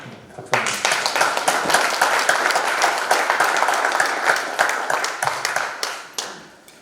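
A seminar audience at the National Assembly members' office building applauds honored 38th-class graduates. Clapping swells in quickly, stays full and lively for several seconds, then tapers off at the end.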